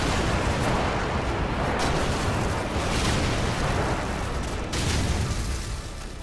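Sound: airstrike explosions in Call of Duty Modern Warfare video game

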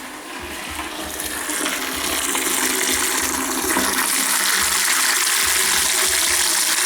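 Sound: water draining from heating system drain valve

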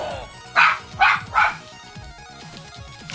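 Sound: dog barking

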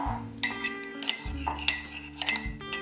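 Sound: mixing sugar, yeast and milk in a bowl

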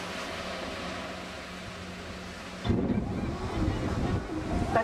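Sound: sea waves on a beach in Jamaica

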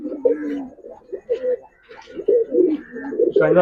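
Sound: pigeons cooing

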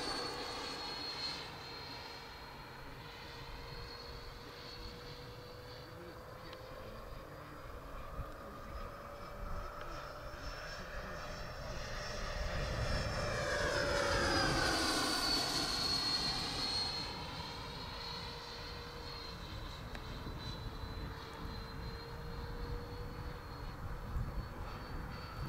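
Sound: Douglas F-4D Skyray model jet aircraft landing

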